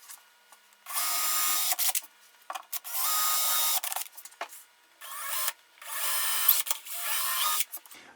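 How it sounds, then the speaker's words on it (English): A power drill with a small bit bores into wood while building an arcade stick console, whining in several sustained bursts broken by short pauses, close and loud with no talking. "the reason I'm using such a small drill bit"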